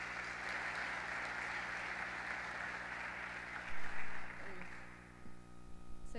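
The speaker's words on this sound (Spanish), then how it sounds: "Un aplauso para ella, por favor." Hall applause at a high school graduation ceremony, a broad steady clapping wash that fades out, followed by a couple of louder microphone bumps and a faint ringing tone.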